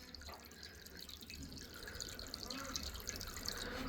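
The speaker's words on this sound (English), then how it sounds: "Just fill it up like that so they know water's sitting in there" Water running from a hose into a pig drinking trough on a farm, a steady, faint splashing and trickling stream that continues throughout with no break.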